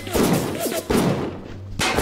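Gunfire in the video game Bioshock, three heavy close shots spaced roughly a second apart, each a loud thump with a short decaying tail, no talking.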